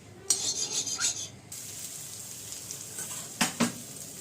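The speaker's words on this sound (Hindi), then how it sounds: "मैं अदरक लहसुन डाल चुकी हूँ। अब इसको कच्ची बू जाने तक अब हल्का सा दरदरा सा इसको भून लीजिए।" Ginger and garlic frying in desi ghee in a kadai, a soft continuous sizzle with scraping stirs from a spoon near the start and again near the end, close by with no talking.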